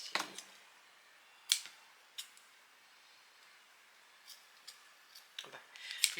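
Scissors cut through paper while a newborn gift box is crafted, giving a few sharp close snips spaced out over several seconds, quiet and without speech.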